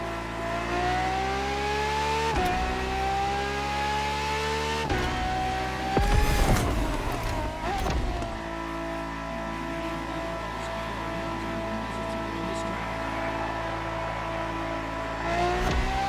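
A Ferrari racing car in the video game The Crew Motorfest revs hard and climbs through its gears, with several quick shift drops and a sustained loud, high-pitched engine whine close up.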